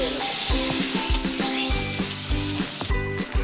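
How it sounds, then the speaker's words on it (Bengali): Turmeric and chili powder sizzle in hot oil as they are stirred, a close, steady crackling hiss with light scraping strokes, with tonal music running underneath. "হলুদ গুঁড়ো, লঙ্কা গুঁড়ো দিয়ে আমি একটু নেড়ে নেব।"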